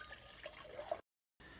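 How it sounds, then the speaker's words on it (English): Copper sulfate solution poured into a beaker, a soft close trickle of liquid with small splashy bubbles, then a brief silent gap before the quiet pouring resumes. "So we pour some of that into here."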